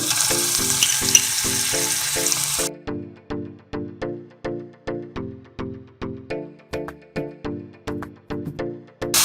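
Loud hiss of garlic paste frying in hot oil for pizza sauce for a few seconds, then it cuts off and a steady run of rhythmic knocks follows.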